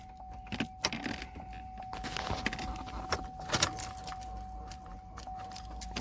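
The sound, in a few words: car key put into ignition of 2005 Trailblazer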